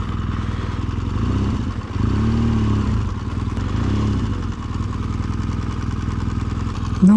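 A BMW R1200GSA motorcycle rides slowly through winter snow, its engine a steady low, throbbing drone with a couple of brief swells in revs, heard alone and fairly close.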